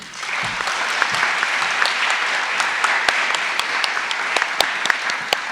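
Applause for newly inducted seniors at a school National Honor Society induction ceremony, a steady crowd clapping with several louder, close individual claps popping out above the wash.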